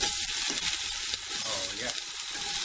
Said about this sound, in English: And the first thing that goes in are the onions.